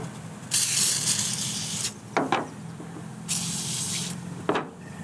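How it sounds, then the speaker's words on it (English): Invisible glass cleaner is sprayed onto car distributor cap and breaker point parts in two long close hisses, each followed by a short pair of clicks or scrapes. "I'm just spraying some invisible glass cleaner on here to get rid of all the scum from the wheel cleaning stuff and the oil"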